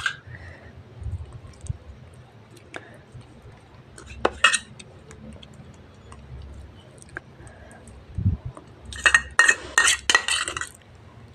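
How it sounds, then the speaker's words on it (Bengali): A spoon spreads sauce over a whole wheat pizza base. Soft scraping is broken by a few sharp metallic clinks and taps, with a busier cluster of clinks near the end, in an otherwise quiet setting. "উপরে সসটা লাগিয়ে দিচ্ছি।"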